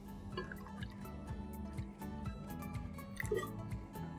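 A cupful of water is poured into cornstarch for a slurry in a kitchen, making faint trickling and dripping sounds that are soft and close, without voices.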